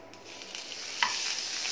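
Butter fries in hot oil in a heated pan as a steady, close hiss. A brief scrape of stirring comes partway through.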